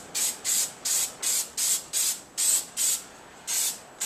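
Primer paint is sprayed onto a Chauvet Q-Spot 260 LED light fixture in about ten short, evenly spaced hissing bursts from an aerosol can, close and clear with brief silences between them.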